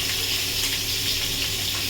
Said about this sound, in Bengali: এদিকে আলু ভাজছি, এদিকে ডিম ভাজছি